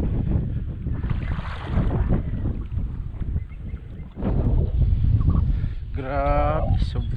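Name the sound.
strong wind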